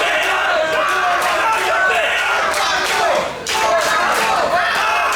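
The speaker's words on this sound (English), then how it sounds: "Crowd starting to rally behind" Wrestling arena crowd roaring and cheering in a loud continuous swell, with shouts and yells rising throughout, briefly dipping before surging again.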